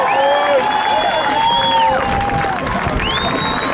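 Loud rugby crowd cheering at a BYU vs Arizona match, with high whoops and shouts rising over a constant roar of applause and voices, close and continuous.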